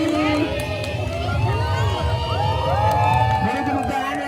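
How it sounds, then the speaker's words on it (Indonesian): An audience at a bird show in Indonesia cheers and whoops for a changeable hawk eagle, a steady, lively crowd noise with voices mixed throughout. "Beri tepuk tangan yang meriah untuk Gary."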